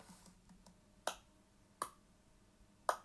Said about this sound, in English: So we've got 4 claps there